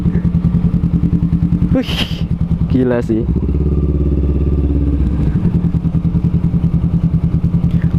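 Honda CMX500 Rebel cruiser motorcycle rumbles through slow stop-and-go traffic, its loud close engine pulsing steadily with brief revs and a clattering shift, while a rider talks over it.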